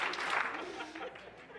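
Conference keynote audience clapping on cue, a short burst of scattered applause in a hall that fades after about a second, with no speech over it.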